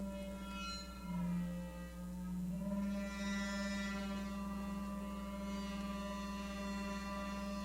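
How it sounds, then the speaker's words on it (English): Audrey II Karplus-Strong synthesizer drones steadily, noisy and messy with a low sustained tone, shifting overtones and a constant hum underneath, held alone without talking. "There is so many possibilities with this synth. It's noisy, it's messy, and it's quite amazing."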